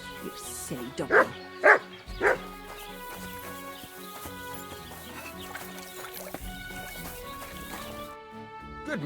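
In Kingdom Come: Deliverance II, a dog barks three times in quick succession near the start, then game ambience and a soft musical backdrop carry on with no further barking.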